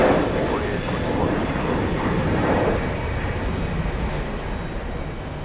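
A Norse airliner at JFK gives off a loud, steady jet engine roar, near and continuous, with faint voices beneath the noise.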